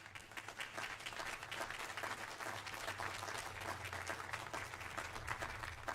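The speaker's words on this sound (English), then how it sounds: "So let's give it a round of applause," An audience applauds steadily at a military school band and chorus festival concert, a dense, sustained patter of many hands clapping in a large hall, fairly distant and even throughout.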